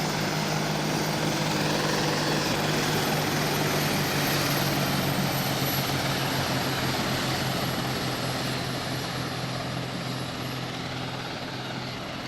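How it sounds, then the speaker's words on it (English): Apache attack helicopters fly in formation in the Arma 2 military video game, a continuous loud rotor and turbine drone with steady blade thump throughout, no voices over it. "the second Apache is staying closely in a basic formation with the first helicopter"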